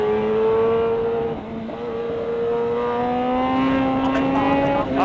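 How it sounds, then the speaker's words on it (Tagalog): A car climbs a winding mountain road on Marilaque, its engine note rising steadily as it accelerates uphill and holds a loud, near, continuous drone with a brief dip midway and a faint voice underneath. "May sasakyan."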